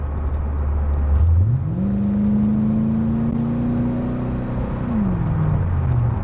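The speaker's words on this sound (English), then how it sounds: "She downshifts." A C4 Corvette with an automatic transmission drives along with a steady engine hum. The engine note rises as the transmission downshifts, holds at the higher pitch for a few seconds, then settles back lower. No one speaks.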